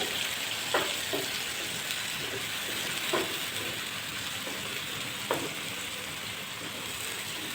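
Mushroom curry gravy fries in a pan, giving a steady close sizzle and hiss with a few soft knocks of stirring at intervals, no talking.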